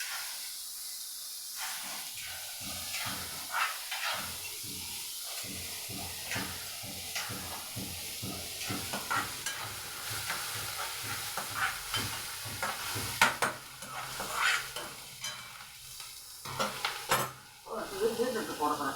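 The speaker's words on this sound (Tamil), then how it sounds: "வெங்காயத்தை நல்லா வதக்கிட்டு அதில் பீட்ரூட்டை போட்டு" Beetroot tossed into onions sautéing in a pan, with a steady hiss of frying and rhythmic scraping strokes of a spoon stirring, fairly quiet and close, while someone talks over the cooking.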